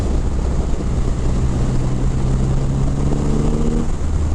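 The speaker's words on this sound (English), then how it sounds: "It's really something else, this engine" A 2500 cc Triumph Rocket 3 GT motorcycle engine runs steadily at close range, a continuous loud rumble with a low drone that holds through the clip, rising slightly with a few steady tones near the end.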